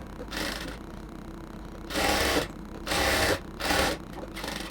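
Sewing machine back-stitching seams on a cotton dress, with short bursts of rapid mechanical whirring separated by pauses, fairly quiet and close.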